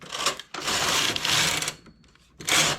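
A domestic knitting machine's carriage sweeps back and forth across its needle bed while working thick yarn with a locked punch card. Loud, close mechanical whirring and rattling strokes come in several runs with brief pauses between them, and no voices.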